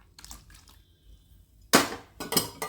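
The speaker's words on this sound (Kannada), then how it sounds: "ನಾನಿವಾಗ ಇದಕ್ಕೆ 1 ಲೋಟ ಹಾಲು ಸೇರಿಸ್ಬಿಡ್ತೀನಿ." A glass of milk is poured into horse gram malt: quiet clinks and small drips first, then two short, louder bursts of splashing liquid near the end.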